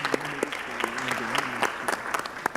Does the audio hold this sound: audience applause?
yes